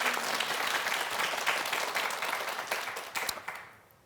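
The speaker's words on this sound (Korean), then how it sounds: "저희가 큰 박수 한번 드릴까요?" Studio audience applause on a Korean morning talk show, a dense burst of clapping from a crowd that holds steady and then fades out toward the end.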